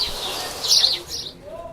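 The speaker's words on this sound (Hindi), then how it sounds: "सुबह आपकी नींद गौरैया की चींची की मीठी आवाज से टूटी थी" House sparrow chirps nearby, a few quick bright tweets clustered together, followed by a brief softer call as the sound fades.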